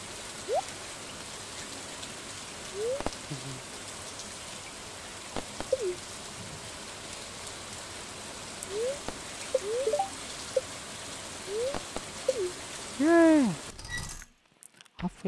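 Steady rain falls in the Stardew Valley video game, a constant soft hiss of drops with a few brief chirping game sounds on top, ending abruptly near the close.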